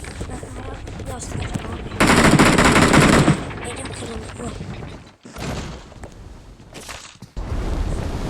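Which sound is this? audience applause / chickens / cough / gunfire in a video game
gunfire in a video game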